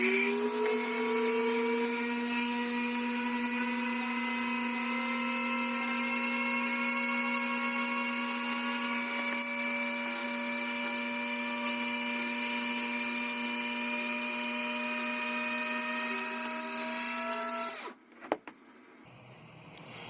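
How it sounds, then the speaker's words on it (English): A small drill bores a hole through a model starship engine part, a steady high whine holding for about eighteen seconds before stopping abruptly, followed by faint handling clicks. "So now I just got to drill the hole in the top and the bottom of the engine."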